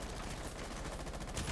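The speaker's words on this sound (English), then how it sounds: "As lots of gunfire being taken, Leventus trying to get some damage on OG" Rapid gunfire and scattered shots in a Rainbow Six Siege grand finals esports match, a dense, continuous crackle that stays steady and fairly loud throughout.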